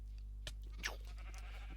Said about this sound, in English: we're going to turn down the sounds of the sheep because they're making a racket